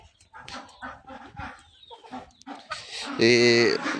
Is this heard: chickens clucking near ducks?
yes